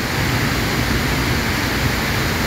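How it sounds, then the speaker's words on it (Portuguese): Water pouring steadily over a waterfall at an ecological park, a loud, dense broadband rush that continues unbroken and close throughout. "Estou cada vez mais próximo da cachoeira, queda d'água."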